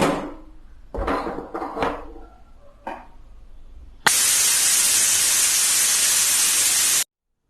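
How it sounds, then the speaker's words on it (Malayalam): A pressure cooker cooking tender jackfruit gives off a loud, sustained steam hiss lasting about three seconds, after a few sharp clattering knocks, then stops abruptly. "ഒരു വിസിൽ കേട്ടു, നമ്മൾ തീ ഓഫ് ആക്കുകയാണ്"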